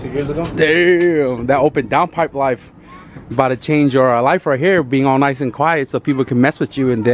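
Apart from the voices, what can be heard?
None of the usual background noises is heard.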